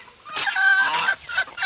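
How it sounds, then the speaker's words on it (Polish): A guinea fowl laying an egg on a farm gives a short burst of nasal, clucking calls, close and fairly loud, in two quick phrases. "Perliczka tu jajko znosi."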